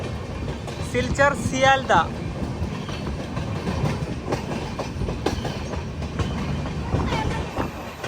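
Kanchanjunga Express train running on a track toward Silchar near Badarpur, a steady rumbling clatter of wheels on rails throughout, with a person speaking briefly over it early on.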